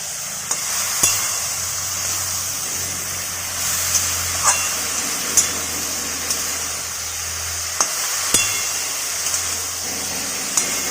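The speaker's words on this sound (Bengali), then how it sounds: "দিয়ে আমরা ভালো করে আবারও নাড়াচাড়া করে নিচ্ছি" Turmeric powder being stirred into ridge gourd vegetables in a pan, a steady frying sizzle with a spoon scraping and tapping against the pan every second or two, no talk.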